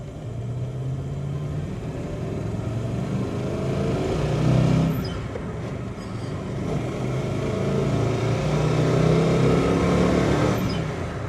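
A 1967 Pontiac Firebird with a Muncie 4-speed and Hurst shifter rumbles and revs while driving, heard from inside as a low, throaty drone that swells with throttle and dips between gears.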